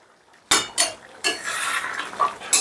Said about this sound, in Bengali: কিছুক্ষণ বাদে ঢাকাটা তুলে নিলাম।